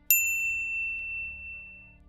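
A single bright notification ding rings out cleanly, a metallic chime struck once and left to decay slowly over about two seconds with nothing else around it.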